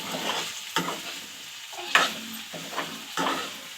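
Chopped drumstick pieces are stirred in a hot pan while they fry in oil in a home kitchen, giving a soft continuous sizzle broken by several scraping strokes of the spoon, close by.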